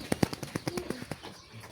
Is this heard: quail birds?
yes